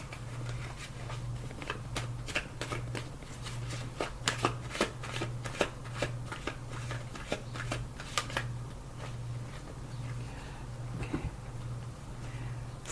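Tarot cards being shuffled by hand, a long run of crisp, rapid riffling snaps and flicks up close, loud and steady for several seconds before settling into softer handling over a low hum.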